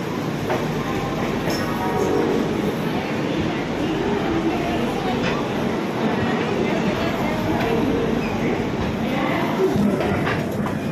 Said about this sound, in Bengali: ঠিক 50-এ কিন্তু ট্রেন ছেড়ে দিল